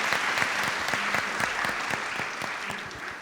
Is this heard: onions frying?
no